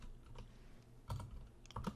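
Typing on a computer keyboard while coding a React app: steady soft key clicks throughout, with two louder bursts of heavier keystrokes near the end.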